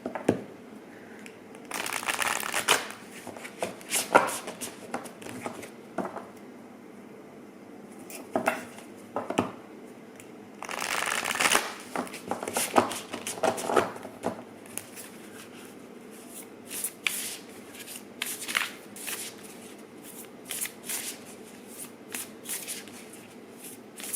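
A deck of oracle cards is shuffled by hand in close, papery bursts of riffling and sliding, uneven and intermittent, with no voice over it.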